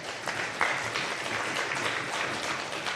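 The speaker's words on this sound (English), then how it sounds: "let's give her a round of applause." Applause from an assembly audience, a moderate wash of hand clapping holding steady for a few seconds, heard from a distance and fairly faint.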